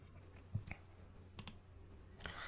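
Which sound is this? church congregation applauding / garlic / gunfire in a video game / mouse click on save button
mouse click on save button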